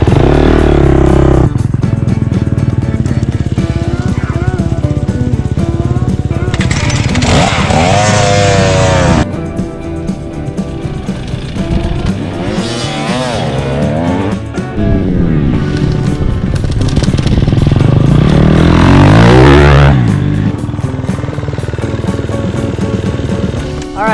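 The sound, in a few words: dirt bike at full throttle in second gear, then braking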